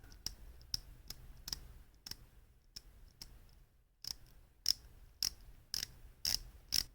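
A titanium dive watch bezel, a Watchdives WD007, rotated in a series of light, crisp clicks, evenly spaced at first, then pausing before a quicker run of sharper ticks, close and quiet.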